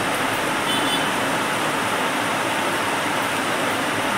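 Steady, dense sizzle of chilli and cumin powder with tomato going into reddened potatoes frying for a Mirka fish curry, a continuous hiss without pauses and without talk.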